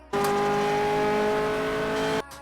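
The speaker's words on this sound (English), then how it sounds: "This is a McLaren P1 GTR." A McLaren P1 GTR engine in the racing game Asphalt 8 holds a loud, steady high-pitched tone for about two seconds, then stops abruptly.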